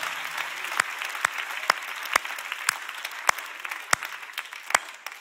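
A church congregation claps in unison, with a dozen sharp, loud claps spaced roughly half a second apart. The claps fall slightly unevenly against a soft background murmur of the crowd.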